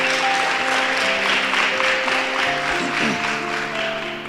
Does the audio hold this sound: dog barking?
no